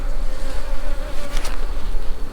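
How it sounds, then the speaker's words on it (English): A male honeybee drone buzzes steadily and close up, a continuous droning hum that holds throughout with no talk. "This is a drone. This is a male bee."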